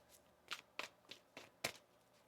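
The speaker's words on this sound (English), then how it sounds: "One more shuffle." Tarot cards are shuffled in a series of soft riffling bursts, about six quick flutters spaced unevenly, quiet and close with no talking.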